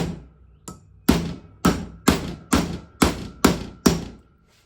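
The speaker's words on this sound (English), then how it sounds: "find the smaller size race driver to install this one" Metal hammer blows driving a race driver into a Volkswagen Vanagon wheel bearing, about nine sharp strikes at a steady pace, growing louder after the first few, with no talking.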